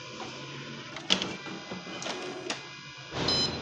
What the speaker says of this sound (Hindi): इसके बाद हम इसकी कॉपी निकालेंगे दोबारा से